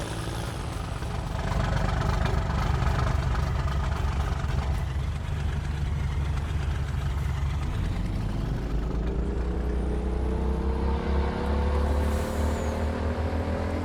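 A tractor engine in Farming Simulator 19 idles with a steady, heavy low rumble throughout, its pitch rising slightly partway through as if revving a little.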